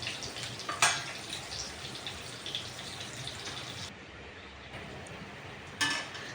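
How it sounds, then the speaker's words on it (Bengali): Hands are rinsed under running tap water to wash off salt and turmeric while cooking Bengali fried greens and eggplant, a steady soft flow with brief splashes near the start and end. "তাই আমি সঙ্গে সঙ্গে ধুয়ে ফেলি।"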